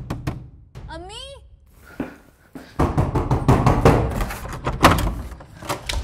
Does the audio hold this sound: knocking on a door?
yes